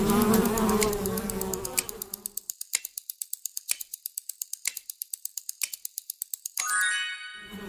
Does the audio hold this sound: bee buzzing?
yes